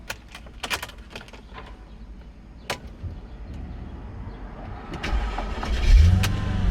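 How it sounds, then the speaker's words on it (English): A car being started up again, giving a few clicks and knocks, then an engine catching near the end as a low rumble that swells and settles into an idle. "I'm gonna start this car up one more time just to hear it"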